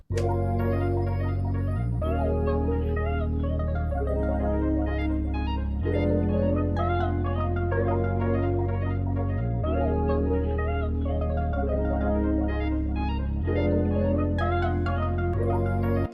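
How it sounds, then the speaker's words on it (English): A smooth R&B loop plays with a Prophet synthesizer bass line following the bass notes, sustained low tones changing every couple of seconds under chords and melody, loud and continuous with no talking. "So I used my Prophet and I recorded a bass in"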